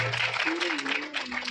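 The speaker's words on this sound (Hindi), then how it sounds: "एक बार जोरदार ताली बजा दीजिए।" A crowd at a Bhagwat Katha religious gathering claps loudly in a dense, sustained burst of applause, with a steady held musical tone underneath.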